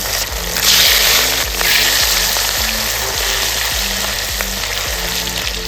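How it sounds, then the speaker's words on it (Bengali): Katla fish frying in mustard oil in a karahi gives a loud, steady sizzle up close, with crackling pops all the way through and no voices. "মাছগুলো এবার আমি ভেজে নিচ্ছি।"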